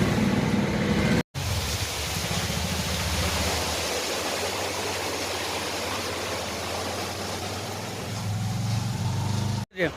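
Floodwater rushes through a waterlogged underpass near a village, a loud, unbroken roar of flowing water with a low engine rumble underneath and two brief dropouts.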